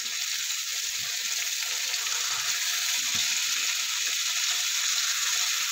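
Pork chop frying in cooking oil, a steady loud hiss and crackle of sizzling fat with continuous spitting, close and even throughout.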